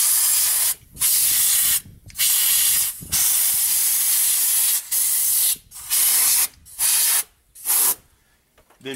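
Compressed air blasts blowing dust out from between the oil cooler housing and front cover of a Ford 6.0 Powerstroke diesel engine, a series of loud hissing bursts with short pauses, ending in quieter trailing hiss.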